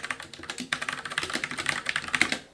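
Rapid typing on a Glorious Modular TKL keyboard with clacky keystrokes and a rattly stabilizer, a steady stream of close, crisp clicks with no voices.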